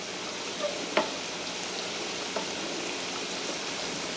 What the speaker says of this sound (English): we're going to stir that one more time so it doesn't stick